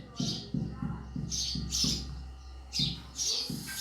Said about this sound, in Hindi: एक चिड़िया की आवाज़ है